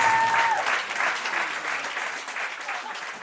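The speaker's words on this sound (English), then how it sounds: "applause for Brandon Green's first band." Wedding guests at a garden ceremony clap together in a dense, steady round of applause that holds at a fairly even level, slowly tapering slightly toward the end.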